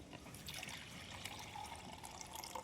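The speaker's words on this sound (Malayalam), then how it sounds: "ഇങ്ങനെ ഇത് ഇതിലേക്ക് ഇങ്ങനെ ഒഴിച്ചു കൊടുക്കാം" Water is poured into a container while preparing a cooling mix for mango trees, a faint, steady trickle running continuously with a soft brighter splash partway through.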